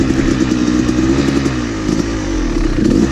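A dirtbike engine roars close and loud on a steep hill climb, holding a rough, throbbing drone with slight dips and surges in revs across a few seconds.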